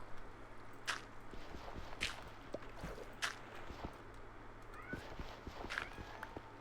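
Repeated short meows from a Minecraft cat arrive at roughly even intervals, about five calls over a constant low drone with faint soft clicks and steps between them.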